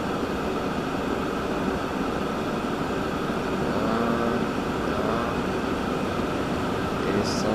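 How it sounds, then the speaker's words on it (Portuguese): A steam train rolls through a Transport Fever map of Australia, a continuous rumbling, rushing drone of rail traffic with a steady mechanical hum and no talk over it. "Olha a fumaça do trem aqui."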